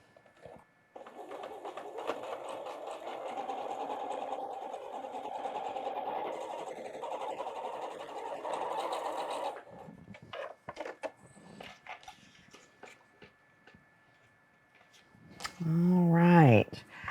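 A sewing machine stitches pinwheel quilt block pieces in a steady, moderately loud whir for roughly eight seconds. Light handling noises follow, and a person briefly speaks at the end.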